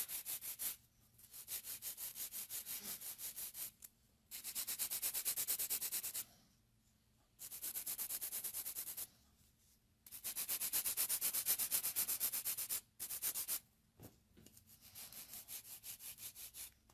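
A nail file rasps across acrylic nails in repeated bursts of about two seconds, each a bright, gritty scrape with short pauses between strokes, up close and alone.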